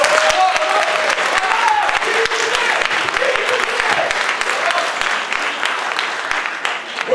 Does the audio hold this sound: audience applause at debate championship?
yes